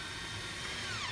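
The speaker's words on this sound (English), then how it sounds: "Finally, a sharp drill bit." A drill grinds steadily and continuously, a rough buzzing whir that stays fairly close without pause, boring a hole with a sharp bit for a fender flare on a 2019 Polaris General.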